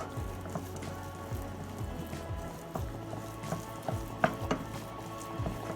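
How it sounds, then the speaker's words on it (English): Butter is mixed into cooked cornmeal cou-cou in a pot, with repeated soft thick squelching and scraping strokes in a steady rhythm, quiet and close. "take a slice of butter and just drop it inside it at the end and just mix it in"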